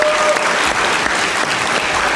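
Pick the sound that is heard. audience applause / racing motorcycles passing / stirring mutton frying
audience applause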